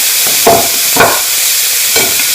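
Salmon sizzles loudly in hot oil in a pan, a dense continuous hiss with a few brief swells as pieces settle, close and with no voices.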